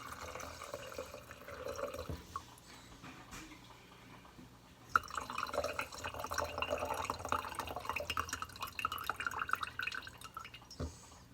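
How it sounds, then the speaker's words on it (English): Homemade bone broth pours steadily through a freshly washed strainer into a measuring cup, a continuous liquid trickle and splash that grows fuller midway, with occasional drips and clinks. "I'm going to do a strain as I pour."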